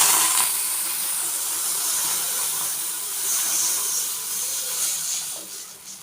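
Water poured into a hot tempering pan sets off a loud, broad steam hiss that holds steadily and close, swelling slightly midway before easing toward the end, with no voices.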